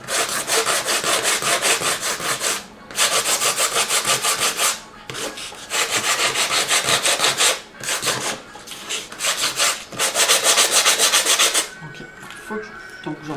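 Sandpaper scrubbed over acrylic paint on a painting in long, rhythmic bursts of close, loud rasping strokes separated by brief pauses, with no talking.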